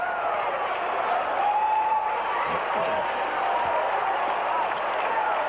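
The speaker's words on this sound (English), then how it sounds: "He drew applause from the crowd." Crowd noise from a packed arena at a 1988 Illinois State vs Creighton college basketball game, a steady wash of cheering and applause that carries on throughout, with faint squeaks and bounces beneath.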